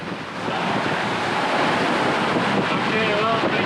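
Strong wind roars and buffets the microphone while waves rush past a sailboat running downwind in near-gale storm conditions, gusting to 30 knots, a continuous loud wash with no voices.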